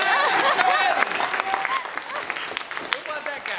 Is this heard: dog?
no